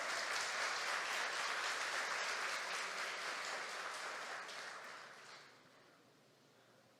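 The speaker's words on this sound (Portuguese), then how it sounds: "Você pode aplaudir a Ele aí nessa noite?" Church congregation applauding during an evening service, a soft, steady patter of many hands that gradually fades out into near silence before a sharp sound at the very end.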